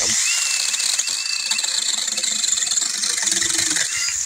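A Seesii PS610 21-volt battery pole saw whines at a high pitch while cutting a tree limb about an inch and three quarters thick, its motor buzzing steadily with faint chattering as the blade bites into wood.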